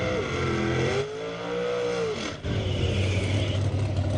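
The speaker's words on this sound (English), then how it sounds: "Big block Chevy and a Land Shark." A big block Chevy dragster and a Land Shark dragster roar at a drag strip during ET finals, with a sustained loud engine drone and a passing pitch sweep that dips briefly before the roar resumes.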